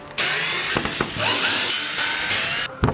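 A power tool whirs loudly and close for about two and a half seconds, backing screws out underneath on board a boat, its drill-like whine wavering slightly before cutting off.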